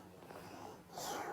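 A voice imitates Mr. Noisy snoring in bed, producing a single short, breathy, rasping snore that is quiet and rises at the end.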